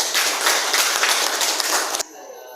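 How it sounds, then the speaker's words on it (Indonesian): A short burst of dense group clapping in a classroom lesson that stops abruptly, leaving a faint electronic tone behind. "minta tepuk tangan"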